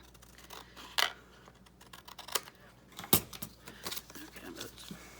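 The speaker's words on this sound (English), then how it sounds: "Now if that's too long, like I feel like it is, we can trim it down a little bit." Scissors trim a fabric tag with a handful of crisp, close snips spaced irregularly over quiet background rustling.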